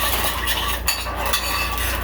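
A homemade skincare mixture of citrus and mint stirred in a bowl, giving a continuous close scraping and swishing with faint clinks, no voices.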